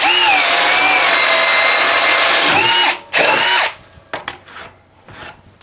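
A Bosch BiTurbo 18-volt half-inch hammer drill bores through wood with a 1-inch auger bit, a loud close whine that dips in pitch under load, then a short burst, stop and a few brief trigger blips.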